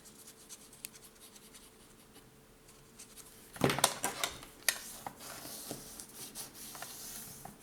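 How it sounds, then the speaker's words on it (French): Scissors trim paper in a few quick snips and rustles after a quiet stretch, close and moderately loud, with light scraping and handling sounds afterward. "Alors, je vais aller l'ajuster avec mon ciseau."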